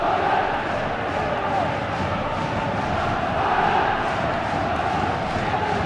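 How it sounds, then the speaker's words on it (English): Scottish football fans at a match cheering and chanting, a dense, continuous crowd roar that stays loud and steady with swelling chants throughout. "The Scots forced to dig deep into their reserves of cheering ability to chant on the side."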